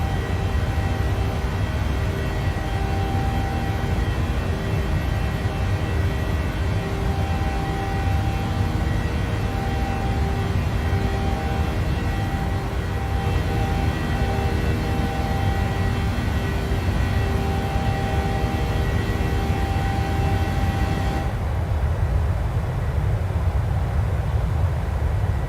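A PMDG Boeing 737 in Microsoft Flight Simulator climbs under high thrust, its engines a steady, loud roar with a constant tonal whine that stays unbroken throughout and shifts in tone near the end.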